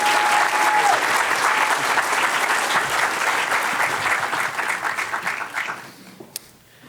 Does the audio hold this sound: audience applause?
yes